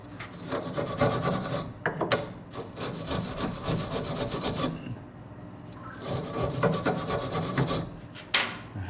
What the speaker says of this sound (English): let's get a wire brush and we'll wire brush all that